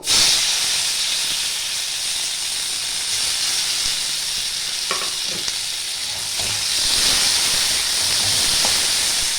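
Chopped onion sizzles in hot oil with dried red chilli, bay leaf and five-spice seeds, a loud steady hiss broken by a few stirring scrapes and clinks.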